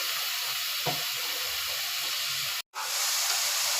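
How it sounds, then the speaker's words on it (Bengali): Ginger and garlic sizzle steadily in hot oil in a pan alongside browned onions, a continuous close hiss that cuts out briefly near the end and then resumes. "আদা রসুনটা ভালো করে ভাজা নিয়ে নেই, ভাজা করে"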